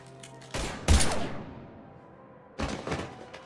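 Gunfire from the Mass Effect 3 video game: two loud, sharp bursts with a fading tail, separated by a quiet pause of about two seconds.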